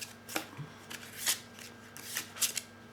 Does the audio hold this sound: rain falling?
no